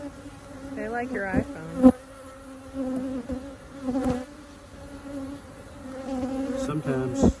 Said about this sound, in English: Suddenly got a lot more bees in the air.